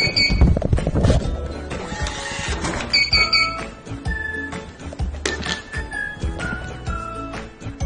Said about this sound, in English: Buzzer and flashlight working after paper cut.